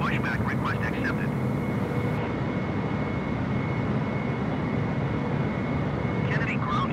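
A Delta airliner's jet engines drone with a steady, continuous roar during pushback at Kennedy airport, while radio chatter is heard at the start and end.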